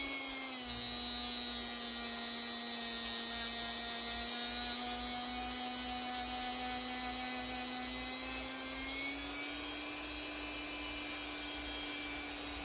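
A rotary tool with an abrasive head grinds at a KX 85 power valve, giving a steady, continuous high-pitched whine with a faint rise in pitch partway through.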